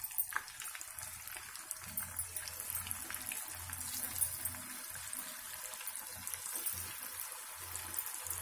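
Garlic chicken pieces dropped one at a time into hot oil, giving a soft, steady crackle and sizzle with small popping spikes, fairly quiet and close, with no talking over it.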